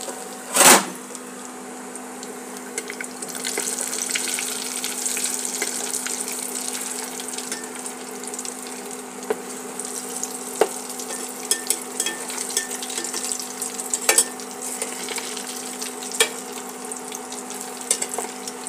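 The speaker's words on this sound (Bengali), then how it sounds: "আমার কিছুটা ভাজা হয়ে গেছে" Egg devils fry in a home kitchen pan, giving a soft continuous sizzle with scattered pops and crackles, steady and fairly quiet throughout after a brief louder knock near the start.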